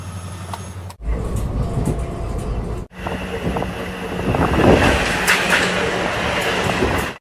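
A passenger train runs between Bandel and Burdwan with a loud, steady rumble and rattle of wheels on rails. Wind buffets the microphone throughout, broken by brief drops in level.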